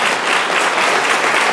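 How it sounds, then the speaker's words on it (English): An audience breaks into loud, dense applause, a continuous wash of clapping that holds steady for a brief moment, with no voices over it. "Now, I like the applause, and the last applause I'll get tonight."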